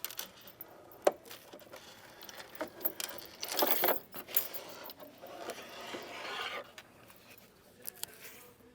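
A sewn child's cap being taken out of an embroidery hoop, with light clicks, rustles and small metallic taps from the hoop and fabric, scattered and faint, with a brief louder rustling burst midway.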